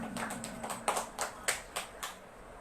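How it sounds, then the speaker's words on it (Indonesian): Scattered clapping from an audience at a final-round youth preaching competition, a handful of sharp claps spaced unevenly over a couple of seconds against a quiet hall murmur. "Tepuk tangan buat rencana"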